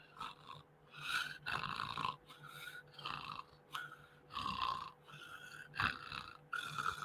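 A person's voice imitates a dog's snoring and heavy breathing, with a series of rough rhythmic snorts and breaths, some louder than others, spaced evenly and heard close and quiet.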